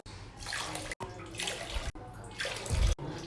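Water is poured in for a sugar syrup, measured four cups into a pot on the stove for gulab jamun. Each pour is a steady splashing rush, broken by short pauses between cups and growing fuller as the pot fills.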